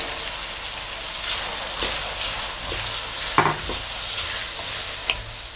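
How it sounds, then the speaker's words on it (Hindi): Tomatoes, green chilies and peas fry in a pan with a steady, close sizzle and crackle, broken by a few sharper scrapes and knocks from stirring. "अब आपने तकरीबन 5 मिनट के लिए इन सब चीज़ों को फ्राई कर लेना है।"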